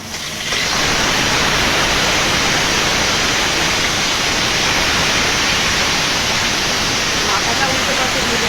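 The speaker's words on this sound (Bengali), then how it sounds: "তেলটা গরম হয়ে গেছে, মাথাটা দিয়ে দেবো," Fish head frying in hot oil, a loud dense sizzle that starts abruptly and holds steady without letting up.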